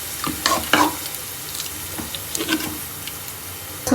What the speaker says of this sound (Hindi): बहुत अच्छे तरीके से मिक्स कर देंगे इसको।